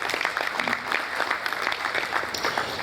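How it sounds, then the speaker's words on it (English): Applause from a business roundtable audience for a speaker, a dense patter of many hands clapping steadily at moderate loudness for a few seconds, with no talk over it. "Round of applause for him once again."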